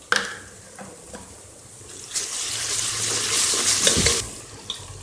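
Ginger garlic paste hits golden fried onions in hot oil, bringing a soft crackle that swells into a louder sizzle for about two seconds midway, then eases back to a low simmer.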